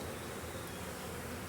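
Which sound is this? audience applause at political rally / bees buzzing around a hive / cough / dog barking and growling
bees buzzing around a hive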